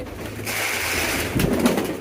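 Pigeons cooing in low, throaty murmurs, close by, with a steady hum of background noise and a brief louder burst near the end.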